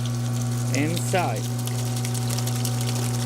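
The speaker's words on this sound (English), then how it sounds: "while my main motor is running" A spa's main pump motor running with the jets on, a constant mechanical hum with steady tonal drone and water churn, heard close under a brief spoken word.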